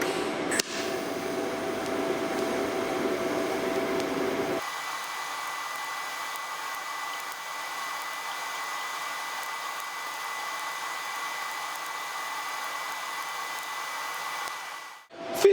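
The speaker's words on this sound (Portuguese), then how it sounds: "Vou fazer uma solda com a vareta de adição" TIG welding with ER308L filler rod on a Boxer Soldas Tigon 225P welder: a steady buzzing, hissing arc drone that runs continuously, louder in the first seconds and then a bit quieter, with no speech.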